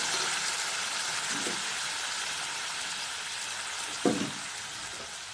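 Manimuni (Asiatic pennywort) water hits a hot pan and sets off a soft, steady sizzle and hiss. A couple of brief splashes and knocks rise above the sizzle, with the louder one near the end.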